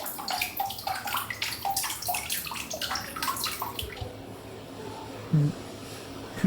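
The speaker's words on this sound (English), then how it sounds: "listening to the water drip off" Water running and splashing in a large Western-style hotel bath, a busy wet trickle with scattered drips that thins out halfway through, followed by a couple of faint knocks in a quiet room.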